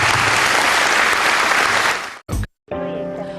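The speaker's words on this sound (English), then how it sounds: "Ladies and gentlemen, they need another round of applause." Loud, dense applause from an audience at a county government presentation, sustained for about two seconds before cutting off, with a short burst and then other sound following.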